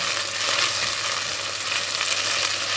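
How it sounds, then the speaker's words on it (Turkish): Tomato paste frying in a pot for tomato soup, a dense, steady sizzle heard up close and alone, with no talking. "Şimdi salçamız kavruldu"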